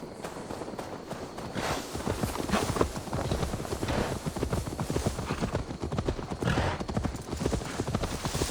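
Horse hooves clip-clopping steadily in the video game Assassin's Creed Valhalla, a continuous close rhythm of walking hoofbeats on hard ground over a low background bed, with a faint neigh mixed in.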